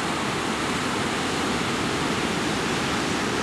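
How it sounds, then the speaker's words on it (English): Water pours over Devil's Cascade, a natural waterfall between two lakes on the north end of Lower Pawness Lake in the Boundary Waters, as a steady, loud, unbroken rushing roar with no voices. "Sort of a natural waterfall between two lakes."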